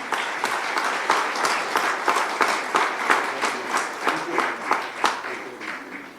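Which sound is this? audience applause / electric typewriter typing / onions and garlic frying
audience applause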